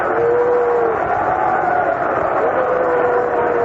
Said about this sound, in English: Now the crowd doesn't like the delay.